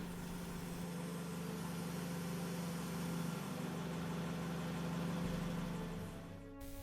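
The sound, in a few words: forklift mast raising and lowering forks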